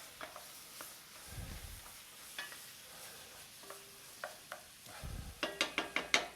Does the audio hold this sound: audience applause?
no